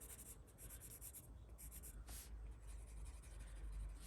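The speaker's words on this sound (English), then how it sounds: "It's pencil coloring." Colored pencil rubbing steadily across paper as an area is shaded and blended, a faint, continuous scratchy stroking that runs without pause, close and quiet, with no one talking.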